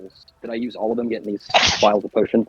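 One sharp, loud sneeze bursts out midway through a tabletop Dungeons and Dragons game session, set between stretches of a person talking.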